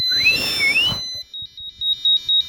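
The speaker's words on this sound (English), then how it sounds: "the burglar alarm stopped the doorbell" A burglar alarm in a student electronics project demo first gives a loud sweeping warble, then settles into a rapid run of sharp, evenly pulsed electronic beeps, with no talking.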